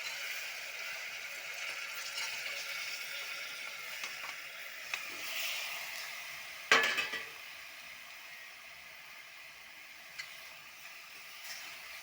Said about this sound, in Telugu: టమాటా కొంచెం బాగా వేగాలండి